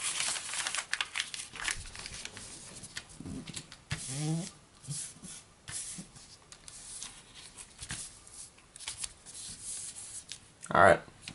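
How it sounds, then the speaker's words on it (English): Paper being folded and creased while shaping an origami hummingbird, with crisp rustles, crinkles and rubbing close to the mic and a sharper crackle near the end. "Fold that over."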